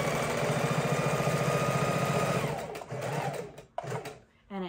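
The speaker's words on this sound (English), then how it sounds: "we're going to lock stitch at the beginning" Sewing machine lock stitching through a seat belt cover with two layers of batting inside, a steady close whirring run for over two seconds, then slowing, stopping and brief fabric handling.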